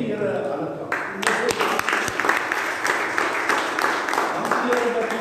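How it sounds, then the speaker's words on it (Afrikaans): A church congregation at a Sunday morning service breaks into sustained, dense applause that swells after a moment and carries on steadily, close and loud, with voices mixed in under the clapping. "Kom ons gee die Here 'n ander klap."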